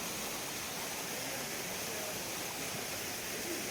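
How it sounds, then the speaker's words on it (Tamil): Waterfall in Kerala heard up close as a steady, dense rush of falling water, a continuous broadband roar without pauses or voices. "இப்போ நான் இந்த அருவிக்கு பக்கத்தில் இருந்து இதை நான் ஷூட் பண்ணிகிட்ருக்கேன்"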